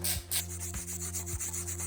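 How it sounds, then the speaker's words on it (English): A wire brush scrubs a metal engine mount from a classic Mini in quick, steady rasping strokes, close and fairly quiet, with no voices. "Yes, a wire brush does work"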